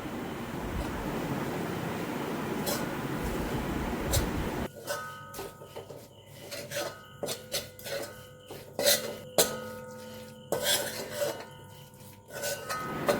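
Turmeric, chilli, fenugreek and asafoetida powders sautéed in a pan for mango pickle: a steady hissing rush at first, then a quieter stretch of scattered scraping, tapping stirs against the pan.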